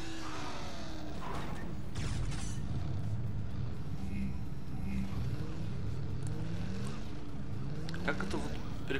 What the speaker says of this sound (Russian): тачка работает с такой, таким звуком неприятным